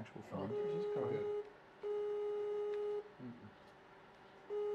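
Incoming Skype call tone on a computer: a steady electronic ring repeating in on-off bursts, with a brief voice talking near the start.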